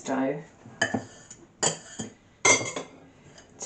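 Knife working through fresh pasta dough in a bowl: a run of clicking, scraping strokes in separate bursts, the metal tapping and dragging against the bowl at close range with soft pauses between.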